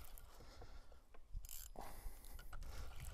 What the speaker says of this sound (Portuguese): Deixa eu abrir um pouquinho a fricção.